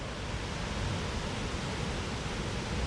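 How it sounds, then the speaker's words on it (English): Haew Suwat Waterfall in Khao Yai National Park, dropping over a 25-meter cliff, gives off a steady broadband roar of falling water, even and continuous, with no talking. "We've got here the view of the waterfall."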